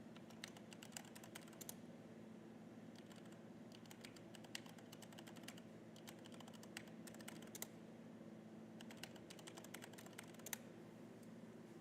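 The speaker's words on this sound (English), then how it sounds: "Here, let me type in a couple things." Someone types on a computer keyboard, a soft, steady patter of keystrokes with brief pauses, faint and close in a quiet room, with no talking.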